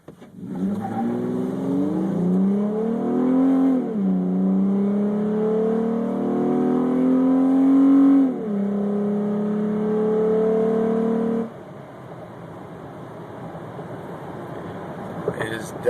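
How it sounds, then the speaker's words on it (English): Inside the cab of a Toyota Tacoma with an aFe intake, the engine revs hard at full throttle, loud and rising through gear changes, then drops off to a low cabin hum. "It is definitely very loud inside the cab when you step on full throttle."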